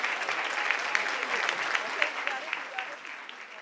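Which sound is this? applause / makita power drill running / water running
applause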